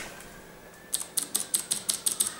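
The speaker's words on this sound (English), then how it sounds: "this is the membrane keyboard" Rapid, soft clicking of keys being typed on a Razer Lycosa membrane keyboard, about a dozen light presses in an uneven rhythm after a quiet start.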